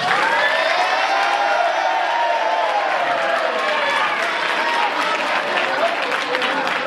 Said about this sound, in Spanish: que les hagáis un aplauso y la ola a los padres